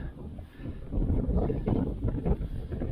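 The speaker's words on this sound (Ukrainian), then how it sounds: "Вітер нині просто фест. Думаю, ви чуєте." Strong wind buffets the microphone in a steady low rumble with gusty surges, loud and continuous throughout, during evening zander fishing on a canal.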